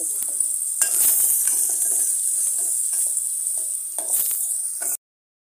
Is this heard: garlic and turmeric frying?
yes